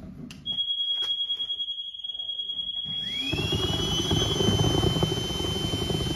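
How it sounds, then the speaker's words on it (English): A blown-in insulation blower starts with a steady high-pitched whine, then after about three seconds a loud, continuous roaring rush rises as the machine ramps up. "Fire up the, the blower."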